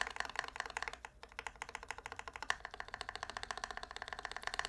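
Close, even clacking comes from a mechanical keyboard fitted with GMK Modern Dolch 2 keycaps, typed at a rapid, regular pace with a brief hitch near the start and no voices over it.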